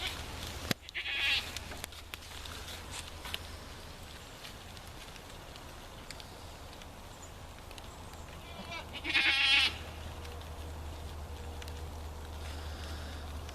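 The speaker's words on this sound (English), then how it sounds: "There's my goats." Goats on a farm, with two distinct bleats, one near the start and a louder, longer one later, over a low steady background hum and light ambient noise.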